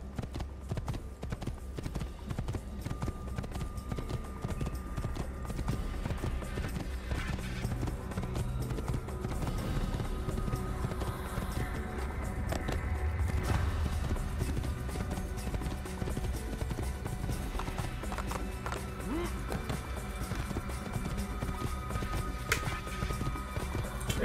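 A horse gallops in Assassin's Creed, its hooves pounding a fast steady clip-clop through a long stretch, fairly quiet, with a low rumbling game soundscape behind and faint talk at times.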